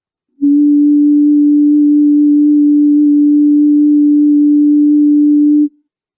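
A single pure, steady tone, the fundamental of a vowel sound, hums at a low-mid pitch for about five seconds, loud and unwavering, then stops abruptly.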